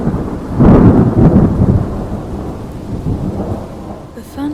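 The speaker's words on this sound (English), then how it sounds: "The thunder was louder than before, reverberating through his entire room so loudly he could feel it shaking." Loud, deep rumble of thunder during a storm, rolling for a few seconds before fading, with rain hissing underneath.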